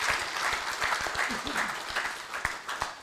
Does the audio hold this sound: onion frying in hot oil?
no